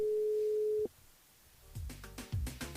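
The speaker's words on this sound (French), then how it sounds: "Donc on appelle Mathieu sur le jeu Night" Telephone line tone on an outgoing radio-station call to a contest winner: one steady tone holds for just under a second, then stops and leaves a short hush before louder sounds break in.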